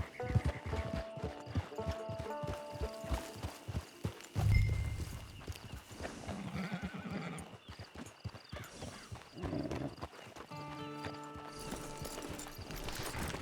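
A horse in the video game Red Dead Redemption 2 clip-clops along at a steady walking rhythm, loud and close, then gives a clear whinny partway through, set against a light ambient game backdrop.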